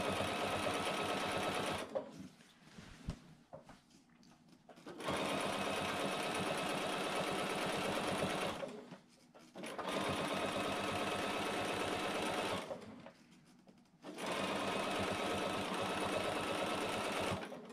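A sewing machine stitches binding onto a quilt in three long, loud bursts of steady whirring, each broken off by short pauses.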